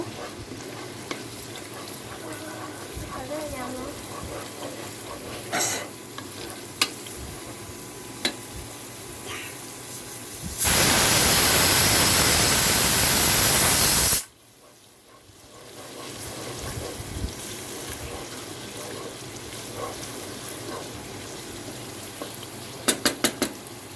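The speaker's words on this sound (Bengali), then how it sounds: "এভাবে এখন মশলাটাকে আমি ভালোভাবে কষাবো যখন মশলাটা ভালোভাবে কষানো হয়ে যাবে তখন আমি চালটা একটু ভেজে নিব" Spice paste for thin khichuri fries in a pan while being stirred, with soft scraping strokes and a low sizzle. A loud, dense burst of sizzling lasts several seconds midway, then the sound falls back to quieter stirring.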